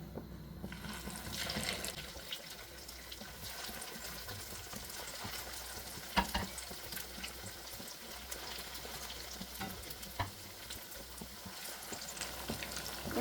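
Sabudana vadas drop one by one into oil heated over a medium flame in a pan, giving a steady, moderate bubbling hiss that carries on throughout with a few faint clicks and no talking.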